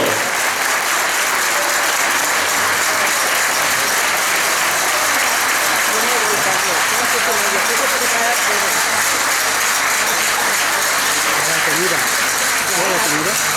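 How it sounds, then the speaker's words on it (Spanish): Audience applause at an Aragonese folk jota festival, a loud, continuous wash of clapping that stays harsh and saturated throughout without letting up. "Gracias al público por esos aplausos."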